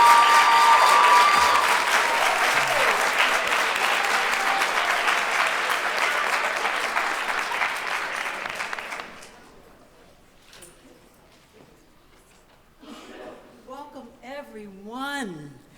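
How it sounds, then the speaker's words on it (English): A crowd claps loudly and steadily for several seconds at a high school visual and performing arts showcase before the applause fades out, then a voice starts speaking. "a round of applause"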